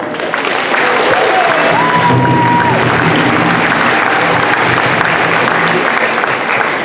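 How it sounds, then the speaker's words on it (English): Steady applause from a crowd at a high school graduation ceremony fills the whole stretch, dense and even, with a faint voice or whistle briefly rising above the clapping. "Can we give her another round of applause?"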